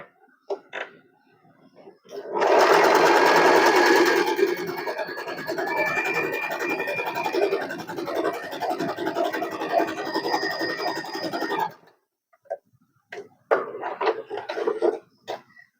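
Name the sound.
Usha Allure DLX sewing machine stitching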